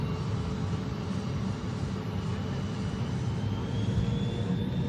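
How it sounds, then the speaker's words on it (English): A United Boeing 777 climbing away after takeoff from runway 25 at Denver International Airport, heard as a steady, loud broadband engine roar with a faint whining tone slowly rising, sustained without pause and no voices. "a 777 aircraft that has just taken off from runway 25 at Denver International Airport"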